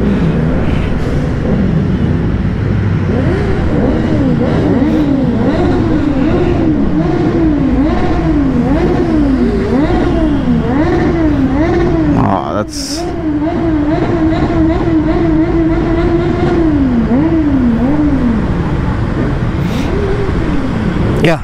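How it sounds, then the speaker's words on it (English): Several motorbikes ride along a Bengaluru road on the way to a bikers' meet, their engines rising and falling in repeated revs, loud and close. A sharp passing burst sounds midway. "In about 5 minutes time, this whole road would be covered with superbikes"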